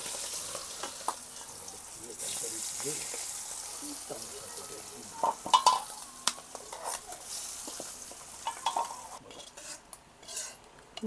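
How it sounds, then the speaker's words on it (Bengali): Hilsa roe frying in oil in a pan, with a soft steady sizzle running throughout, broken by clinks of utensils against cookware and occasional stirring scrapes, some louder knocks in the middle. "আর এই এখন ডিমগুলো ভেজে রেখে দেব"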